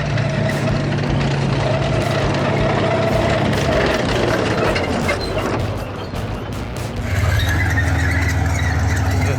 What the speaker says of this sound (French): ça c'est un moteur les gars